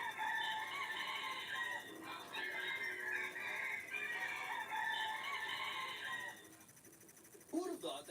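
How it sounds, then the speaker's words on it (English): A rooster in a longest-crow competition gives a long, sustained crow held for several seconds, fairly faint and distant with crowd noise behind, before fading into quiet. "rooster owners compete to see whose bird can crow the longest"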